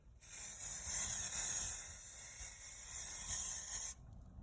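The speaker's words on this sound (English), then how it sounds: "we're just going to press down on here" Spray paint can sprayed in one continuous burst of about four seconds, a close, steady, loud hiss that starts and stops abruptly.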